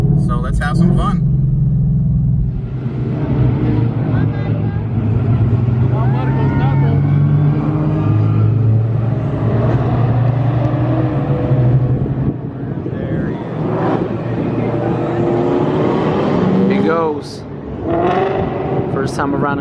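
A tuned 2018 Ford Mustang GT in track mode runs a roll race on a NASCAR track, its engine roaring loud and close in a steady drone that rises and falls in pitch as it revs.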